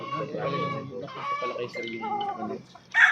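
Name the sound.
golden gray gamefowl chickens on a game farm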